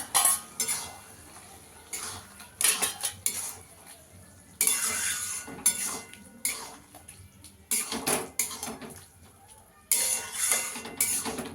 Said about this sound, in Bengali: ঢাকনাটা তুলে একটু নাড়া দিয়ে দেবো